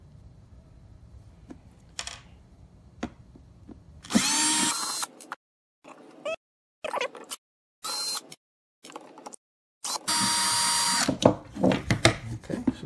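A power screwdriver backs small screws out of the rear panel of an Arcade1Up Pac-Man countertop cabinet, giving two loud whirring bursts with short clicks and handling noises in the quiet gaps between them.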